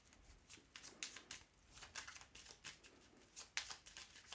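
Tarot cards being shuffled by hand, a quiet run of soft riffling flutters and crisp slaps in an uneven rhythm, close by with no talking.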